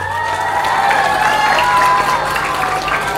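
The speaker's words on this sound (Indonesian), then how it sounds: "Maka tepuk tangan untuk para perempuan." A crowd clapping and cheering together at an Islamic boarding school talk in Indonesia, with tonal voices or music ringing over the steady applause.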